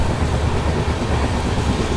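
A train running on rails on the Rajkot to Kanalus line, heard up close as a loud, continuous rumble and rattle of wheels without a break.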